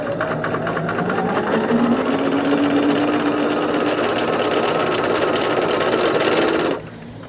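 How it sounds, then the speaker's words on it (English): A sewing machine machine-stitches glue-basted quilt pieces for flying geese blocks, running in one loud, steady, even whir for about seven seconds before stopping abruptly, with no talk over it. "I'm glue basting and machine stitching it."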